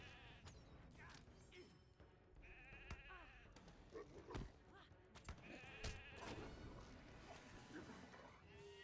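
Sheep bleat repeatedly in a video game, overlapping calls with scattered thumps and game effects during a fight scene, fairly quiet and busy.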